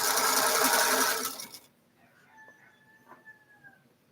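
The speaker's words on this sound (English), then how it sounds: "That rooster's just trying to get everybody up" A rooster on a chicken farm crows once, faint and somewhat distant, after a loud buzzing mechanical noise that fills the first second and a half.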